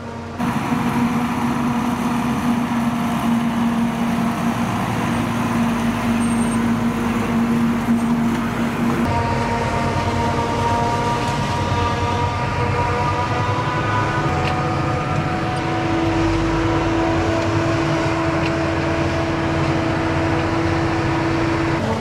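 Mercedes Unimog Agrar tractor crawling in first gear beside a maize chopper during the harvest, a loud continuous engine drone with steady tonal whine, the pitch shifting partway through.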